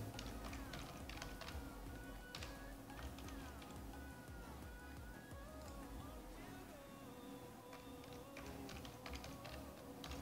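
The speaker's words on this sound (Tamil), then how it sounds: "நான் பாஸ்வேர்டு டைப்" Someone types a password on a computer keyboard while registering for online banking, producing a steady stream of soft, quick key taps at a low level against faint background noise.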